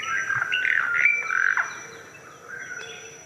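Birds sing in a forest, bright warbling phrases and whistled calls repeating close by and fairly loud, with no talk.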